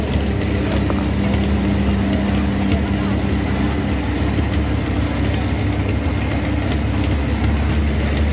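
A racing machine powered by a big-cubic-inch Sonny Leonard Hemi at the Southern Showdown in Millers Tavern, Virginia, roars loud and unbroken with a dense mechanical rattle, while a voice talks over it.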